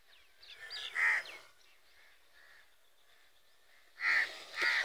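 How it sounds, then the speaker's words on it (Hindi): A crow gives harsh caws in short bursts, one near the start and a louder pair at the end, separated by quiet outdoor background. "कौवे मुझ पर अटैक कर रहे थे"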